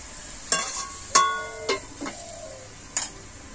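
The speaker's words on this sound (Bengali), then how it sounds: "এটাকে কিন্তু ভালো করে আমি নাড়াচাড়া করে নেব।" A spoon stirs shredded cabbage with turmeric and salt in a pan, making about five separate sharp metallic taps against the pan, spaced unevenly over a quiet background.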